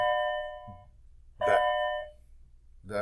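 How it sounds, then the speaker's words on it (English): A school bell chimes in two-tone ding-dong strokes, repeating three times at even intervals, ringing clear and fairly loud with short gaps of quiet between strikes. "bell rings way too many times."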